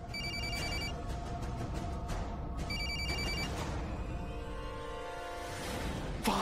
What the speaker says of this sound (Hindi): हाँ, कहीं से फोन की आवाज आ रही है।